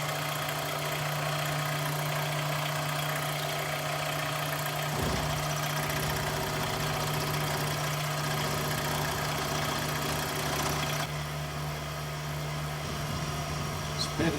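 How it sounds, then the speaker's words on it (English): A milling machine cutting the face recess of connecting rods for a 2.5-inch gauge Green Arrow model locomotive, a steady mechanical whir with a constant hum and a brief clunk partway through. "This is the setup I'm using to machine the face or the recess portion of these connecting rods."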